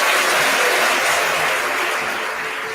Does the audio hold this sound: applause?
yes